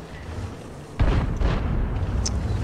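Artillery fire in the tank battle game World of Tanks: a sudden heavy boom near the start of the clip, followed by a second thud and a sustained rumbling roar that fades only slightly.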